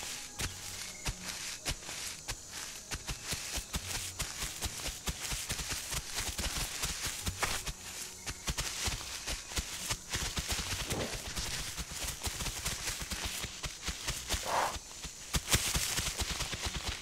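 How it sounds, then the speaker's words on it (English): Heavy dinosaur footsteps from the video game The Isle, a dense, rapid thudding of many steps that keeps going at a steady level for the whole stretch, with no talk over it. "So many footsteps."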